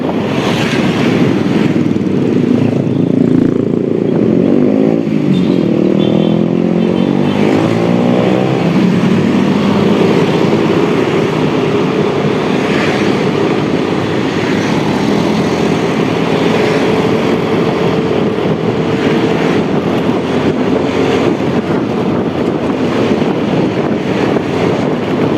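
A 2018 Yamaha Lexi scooter cruises at an easy pace of about 50, its engine droning steadily and loudly up close with continuous wind rush and slight pitch shifts throughout.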